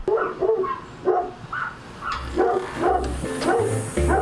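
Dogs bark repeatedly in short bursts behind a door, slightly muffled, with some yips mixed in and a low rumble underneath.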